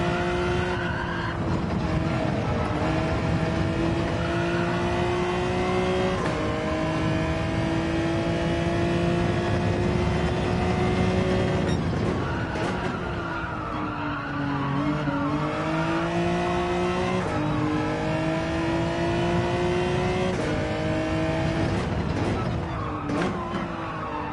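Race car in Gran Turismo 7 with its engine revving up and down through gear changes, rising and falling pitch sweeps, and repeated sharp tire squeals at intervals, loud and close throughout.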